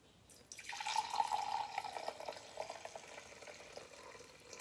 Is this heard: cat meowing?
no